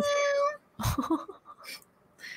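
A voice imitates a cat's meow, a drawn-out whiny cry, followed by a short burst of chatter and laughter.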